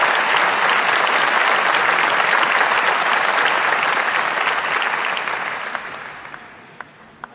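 Dense, sustained applause from a large audience welcoming the speaker at an MBA commencement ceremony, loud and steady for several seconds before tapering off toward the end.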